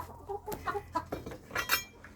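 Chickens cluck nearby in short, irregular bursts, with a faint clink of metal in the background.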